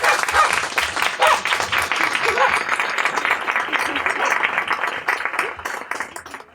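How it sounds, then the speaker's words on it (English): Audience applause for author Kiley Reid at a bookstore reading, a dense, steady burst of many hands clapping that holds for several seconds and then tapers off near the end. "So give her a round of applause."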